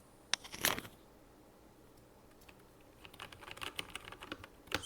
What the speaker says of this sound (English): I'm going to go ahead and put the microphone on the keypad so you can hear it